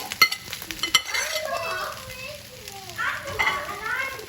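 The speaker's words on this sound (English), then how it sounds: "The heat is on high. And now you just mix everything in, inside and out." Egg fried rice is stirred in a hot pan over high heat, with a sizzle and sharp utensil clatter against the pan at the start. Voices of children and an adult talk over the cooking noise.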